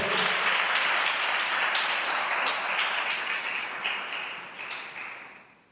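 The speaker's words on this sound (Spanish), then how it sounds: "Den un aplauso a Jesús." A church congregation applauds during a sermon, loud dense clapping at first that gradually thins and fades toward the end, with no talking over it.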